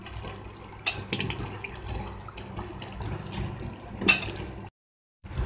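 Water from a glass is poured into a pot of potatoes for aloo biryani cooking on a stove, a steady splashing pour with a few louder clinks, ending in a short silence.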